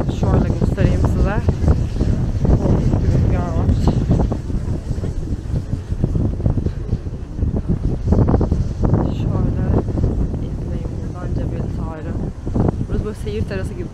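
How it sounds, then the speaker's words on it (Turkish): Very strong wind blasts across the microphone at a harbour-view terrace in Tangier, a loud continuous low roar with gusty surges, while a person speaks over it. "Aşırı rüzgarlı burası ama aşırı yani."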